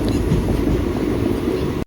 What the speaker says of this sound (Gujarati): બાજુના ટ્રેક પર કોઈ ટ્રેન જઈ રહી છે